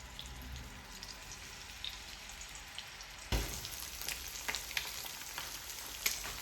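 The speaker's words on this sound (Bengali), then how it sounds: "প্রথমে তো তেলটা গরম হয়েছে এখন আমি আস্তে আস্তে মাছটা দিয়ে দিলাম" Fish pieces slide into hot oil for masala fish fry, and the quiet pan bursts into a sharper sizzle with scattered crackles and spits that continue under no speech.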